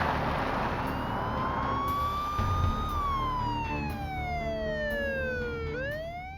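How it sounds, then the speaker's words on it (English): State trooper's police car siren wailing on a Code 3 response, a continuous rising and falling tone that sweeps down and then climbs again, loud and steady over road rumble. "using his lights and siren."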